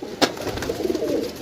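Pigeons kept in a rooftop loft coo softly and close by, with one brief flutter or click early on and a low, rolling coo that carries through the rest of the moment.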